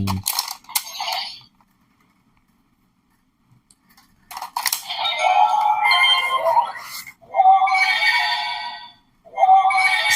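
Bursts of bright electronic sound effects from a DX Arc Cube toy: a short chime and several longer buzzing, whirring jingles separated by brief pauses, close by.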